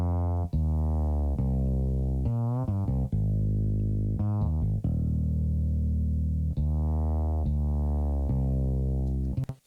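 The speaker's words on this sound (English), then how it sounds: "So I decided to use a sampled bass" Sampled fretless bass from Pro Tools plays a melodic line with slides and bends, deep sustained notes following one another alone and fairly loud.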